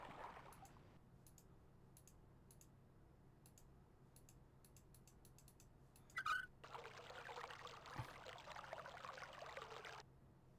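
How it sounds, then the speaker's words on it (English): Water drains out in the video game Myst as a soft rushing pour that starts partway through and runs steadily. Sparse light clicks come before it, all faint and with no talking. "Because I've just let the water out and I've resealed it, it should float."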